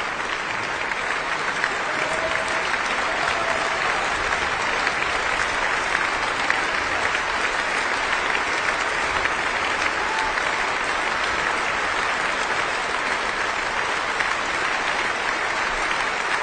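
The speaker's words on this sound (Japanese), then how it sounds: "そして止むことのない拍手に応え、辻井さんはアンコールを披露することになりました。" Sustained applause from a concert hall audience after a Prokofiev piano concerto performance in Vienna, a dense, even roar of clapping that continues unbroken throughout.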